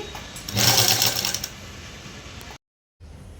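A sewing machine runs a seam along a folded fabric edge for a long frock. A close, loud, rapid burst of stitching lasts about a second, then the machine slows and goes quiet.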